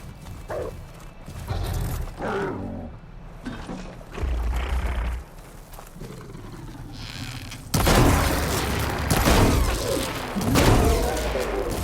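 Booms, metallic mechanisms and heavy footfalls from a Ravager machine in Horizon Forbidden West as its cannon is shot off, with loud bursts and clanking that intensify into a dense, continuous barrage in the second half.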